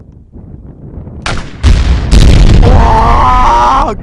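A Peugeot 405 car is blown up: a sudden deep boom erupts, followed by further heavy blasts and a long roaring rumble, loud and close, with faint voices before the explosion.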